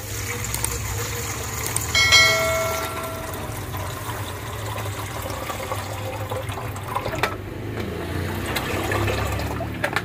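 Four cups of water poured while making a creamy gelatin dessert, a steady watery splashing and trickling that runs the whole time, close and moderately loud, with a brief brighter clink early on.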